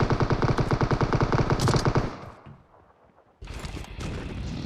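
Close rapid automatic gunfire in a battle royale shooter game comes as a fast steady burst, then fades briefly, and firing resumes at lower intensity.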